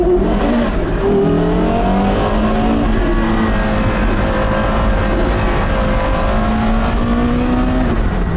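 A BMW i8 or Porsche Carrera GT sports car engine revs and accelerates at close range during the Rallye de Paris 2019, its pitch sweeping up and down through repeated gear changes, loud and steady throughout with no talking.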